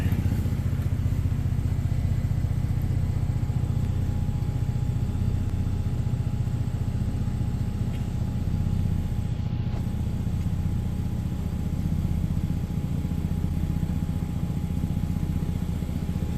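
A 2011 Ford Explorer with a newly installed powertrain runs on its first start and backs out, a steady low engine drone with a faint whine, fairly close, continuous and without talk.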